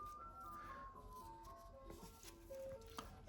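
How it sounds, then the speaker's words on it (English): An ice cream truck rolls through a residential neighborhood, its tinkling jingle melody playing steadily at moderate distance over low background rumble. "Ice cream truck going through the neighborhood"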